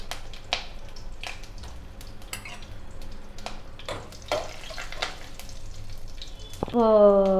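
Curry leaves and garlic cloves fry in a pan with a soft crackling sizzle and scattered pops, followed by a brief clanking clatter near the end.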